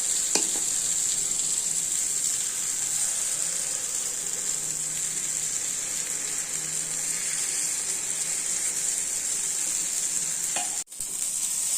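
Kuthiraivali millet batter goes into the hot cavities of a paniyaram pan and fries with a loud, steady sizzle that runs unbroken for most of the stretch, ending with a brief clatter.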